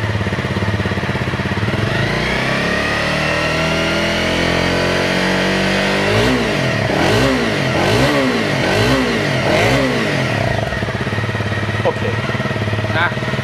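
A Speed Rider B motorcycle engine starts up and settles into a steady, loud idle, with several sharp revving pulses partway through.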